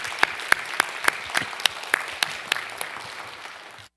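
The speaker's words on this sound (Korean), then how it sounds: "다 같이 박수로 축복해 주시기 바랍니다." An audience at a 2022 college completion ceremony claps in a steady, evenly spaced rhythm, each crisp clap standing out clearly before the applause fades away toward the end.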